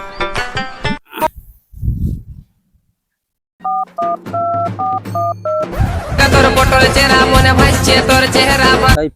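A telephone keypad plays a quick run of distinct dialing tones, then goes briefly silent. Another clipped burst of paired beeps follows, before a denser tonal ringing or music passage takes over.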